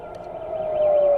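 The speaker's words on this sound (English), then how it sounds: "Sirens rang across Israel as people were told to rush to bomb shelters." An air raid siren sounds across Israel during a missile attack, a steady wailing tone that swells gradually louder over a second, with no voices.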